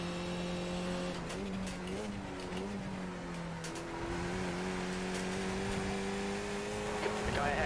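Race car engines in the sim racing game iRacing, a steady loud drone with pitch shifts as a faster car overtakes. Brief clicks are mixed in, and there is no clear talk.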